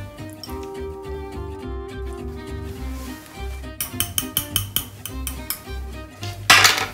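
Room-temperature yogurt is whisked in a bowl, first with a muted stirring then a run of rapid, bright clinks of the utensil against the bowl, close and fairly loud.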